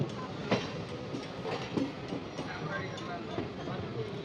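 A MEMU commuter train on the Chennai–Tirupati run pulls into Renigunta junction with a steady rolling rumble and soft, periodic wheel clicks, while people talk nearby.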